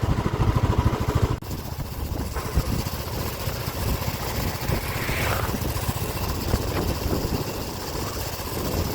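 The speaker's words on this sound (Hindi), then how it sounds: "चलो बाइक ले लें अपनी और चलेंगे आगे" A motorbike engine runs steadily and loudly close by through the whole stretch, a continuous low rumble mixed with road and wind noise as the bike rides off, with no talking.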